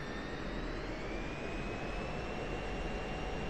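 An F-16C Viper jet engine spools up in the DCS flight simulator, a loud, steady roar with rising whine tones that climb gradually as the throttle advances, with rain weather in the sim.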